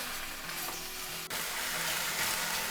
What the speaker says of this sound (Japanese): 鍋にごま油を入れて野菜を炒めていきます